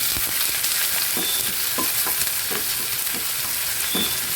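Chopped onions hit hot oil and fry with a loud, steady, close hiss, small crackles and stirring scrapes popping through the continuous sizzle.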